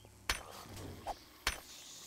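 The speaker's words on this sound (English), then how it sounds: "You can hear the zombies in the background just trying to break into everything." Zombies trying to break in within the game 7 Days to Die: muffled thuds and chopping knocks, two sharp blows about a second apart with a softer knock between, distant against a low background.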